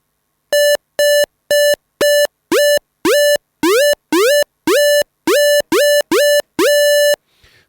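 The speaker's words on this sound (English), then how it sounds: "I'm going to play a note and then I'm going to move the attack dial up and down" A Native Instruments Massive synth plays a series of short repeated tonal notes, each separated by silence, with the attack setting changed so some notes swoop upward in pitch before settling. Loud and clean, with no talk.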